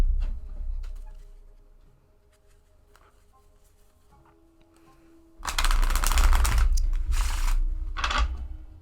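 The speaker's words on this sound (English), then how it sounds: "let's do a shuffle of the deck" Tarot card deck being shuffled: soft scattered taps, then a loud run of riffling, flapping card noise lasting about three seconds in two or three close bursts.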